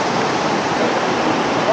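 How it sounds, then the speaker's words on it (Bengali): Strong current of a swollen stream after heavy rain at Debotakhum, Bangladesh, a loud, dense, continuous rush of water filling the whole moment close by. "যার কারণে অনেক তো পানি আসতেছে এখানে দেখেন"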